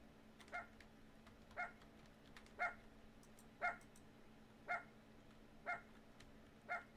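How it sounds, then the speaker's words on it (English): A puppy barks in a steady series of seven sharp yips, about one per second, over a low constant hum with a storm in the background; no one speaks. "Puppy, stop barking"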